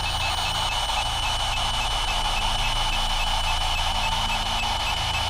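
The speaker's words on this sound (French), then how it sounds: "Donc plusieurs bips." A ghost-hunting device in an old cemetery hums with a steady electronic tone, repeated beeping layered over it, constant and fairly loud throughout, with no voices.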